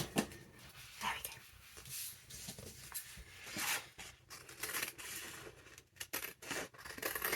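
Scissors snipping through paper on a vintage envelope with a wax seal, a close series of irregular crisp cuts and rustles at a quiet level, with no talk.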